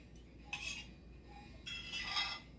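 A knife cuts through an open-faced cheesy tuna melt on a plate in two soft scraping strokes, the second longer, with faint utensil clinks, quiet and close.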